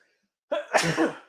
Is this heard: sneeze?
yes